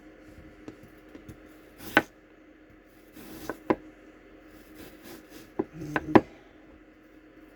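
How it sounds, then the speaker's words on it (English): Leftover onion being cut with a knife in a small RV kitchen, a few sparse, sharp chops spread out with quiet gaps between them. "Now I have some leftover onion. I figure I'd just go ahead and cut that up."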